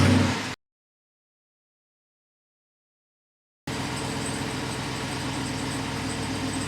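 A Jeep Wrangler JLU 392 with a V8 engine and performance exhaust cutouts fires up after a short silence and settles into a steady, rumbling idle, close and continuous.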